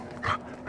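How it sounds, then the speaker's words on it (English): A dog gives a short, sharp vocal burst, a yip or bark, in the middle of a brief outdoor moment, with one more starting right at the end. No one is talking. "all these motherfuckers have dogs"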